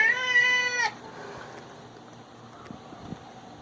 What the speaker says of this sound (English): I had to give my cat some love. He was just meow, meow, meow.